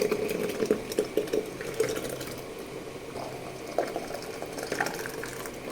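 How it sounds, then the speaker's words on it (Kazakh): Hot boiling cherry jam pours into a sterilized jar with soft gurgling splashes, a few bursts at first, then a steadier, quieter flow close by. "Енді стерилденген банкамызды алып, қайнап жатқан вареньемізді құямыз."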